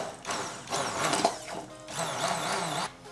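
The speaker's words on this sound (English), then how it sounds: "Now we can immersion blend the pizza sauce." An immersion blender whirs through pizza sauce for a keto cauliflower-crust pizza, in two close, loud bursts of whining motor with a brief dip in between.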